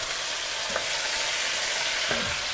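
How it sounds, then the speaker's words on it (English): Beef frying in a pan gives a loud, steady sizzle, with two quiet scrapes from stirring rising briefly above it and no talking. "got to stir this beef a bit."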